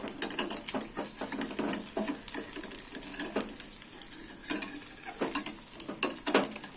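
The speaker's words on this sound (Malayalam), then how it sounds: "എന്നിട്ട് നമ്മൾ ഇങ്ങനെ പിടിച്ചിട്ട് ഇങ്ങനെ ചട്ടിയിൽ നിന്ന് ഇളക്കുക." Repeated scraping and clinking of a utensil stirring an omelette in a pan, with a soft sizzle underneath and no voices.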